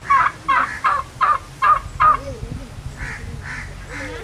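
Crows caw in a rural Bengal village yard during outdoor cooking of hilsa fish pulao: a close, rhythmic run of about six harsh calls, then three fainter ones, over low background noise.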